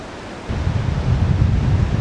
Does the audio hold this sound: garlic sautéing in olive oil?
no